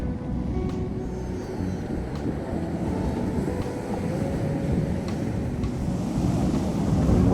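Big surf breaking on an Atlantic beach at Chincoteague Wildlife Refuge two days after a nor'easter, a constant loud roar of waves mixed with gusty wind buffeting the microphone.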